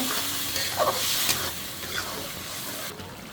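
Tomato and onion paste fry and sizzle in a pan, with steady close sizzling and a few scraping stirs throughout.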